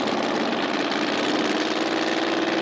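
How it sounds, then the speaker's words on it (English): Mustang drag cars at a street car takeover event in Atlanta, nitrous and turbo, holding raised RPMs at the start line with a steady, loud, sustained engine drone and no break. "Both drivers bring up the RPMs."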